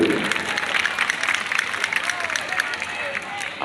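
Crowd applause and cheering at a school's annual sports competition and prize-giving, a dense wash of clapping with background hubbub, moderately loud and sustained throughout.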